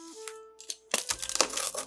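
Crisp crackling and crunching erupts after a quiet tonal moment, a burst of brittle snapping sounds close up, like a crust being cut through.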